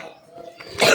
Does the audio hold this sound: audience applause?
no